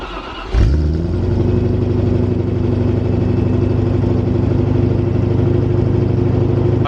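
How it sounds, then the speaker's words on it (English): A V8 truck fires up on its stock exhaust before a muffler delete, then settles into a steady, deep, burbling idle that stays loud and close for several seconds with no talk. "I'll get you a quick exhaust clip of a before while I let the oil circulate"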